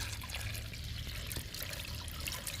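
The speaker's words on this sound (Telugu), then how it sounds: "ఇప్పుడు మనం లిక్విడ్ వడపోసుకుందాము" Homemade liquid plant fertilizer of groundnut cake, tea powder and egg powder is strained into a ten-litre bucket, giving a steady close trickling and pouring of liquid throughout.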